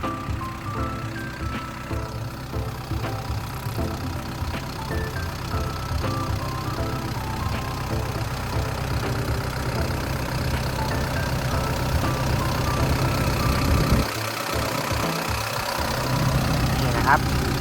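A Caterpillar 312D 12-ton excavator's diesel engine idles steadily with a low, rumbling drone that continues throughout, and a brief deeper knock partway through.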